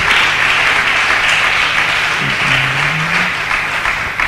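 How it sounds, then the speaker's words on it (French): A church congregation applauding loudly, a dense continuous roar of clapping and cheering that holds steady throughout without talk on top. "est-ce que on peut acclamer très fort le roi?"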